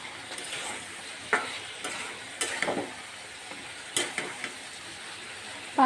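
Spice paste sautéing in a pan before pangas fish head goes in, a low steady sizzle broken by a few sharp spoon scrapes and clicks against the pan.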